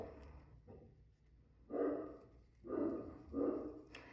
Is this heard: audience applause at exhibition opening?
no